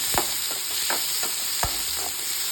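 Chopped tomatoes are sautéed in a pan for an anchovy curry, with about six firm spatula strokes scraping rhythmically over a steady, close sizzle and no talking.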